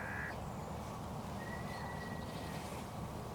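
A hooded crow caws from a distance near a decoy setup at first light, a couple of faint calls over a steady outdoor background hiss.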